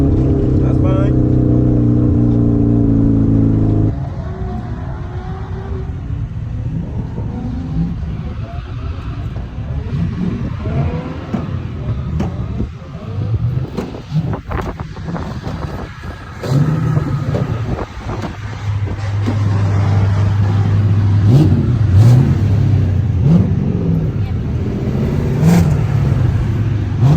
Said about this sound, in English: What, revving?